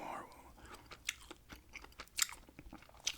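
Gum chewing close to the microphone in a quiet room, with scattered wet clicks and smacks of irregular rhythm, soft and intimate.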